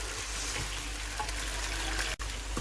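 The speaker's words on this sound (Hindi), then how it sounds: "अब इसमें मैं ऐड कर रही हूँ लहसुन और अदरक की पेस्ट। मज़ीद इसके साथ मैं चिकन को फ्राई करूँगी।" Chicken frying in oil with garlic and ginger paste for a chicken korma, a steady close sizzle and crackle with faint stirring, no talk over it.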